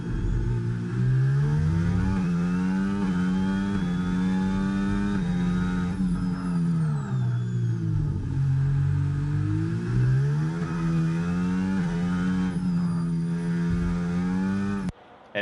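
Formula 1 car engine in a video game, on a qualifying lap around the Baku street circuit, a steady high-pitched whine rising and dipping through gear changes and corners, continuous and loud with no talking.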